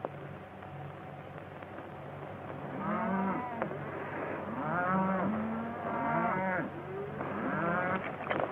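Several cattle in a Western film moo repeatedly at a moderate distance, long lowing calls overlapping one another against a faint background hiss.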